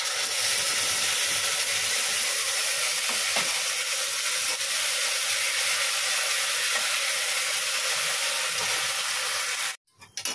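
Mustard paste sizzles loudly in a pan with pointed gourd, a bright, constant close-up hiss with faint stirring clicks, cut off abruptly by a short clatter at the very end.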